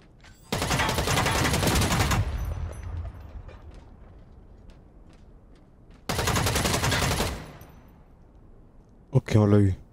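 A turret in the futuristic shooter EVE Vanguard fires loud, sustained automatic bursts, first one long volley and then a second after a pause, with a brief voice at the end.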